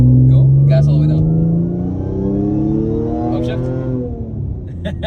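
An Audi S5 engine revs under full throttle, a loud close rising drone that climbs steadily, then drops at a gear change, while people talk over it.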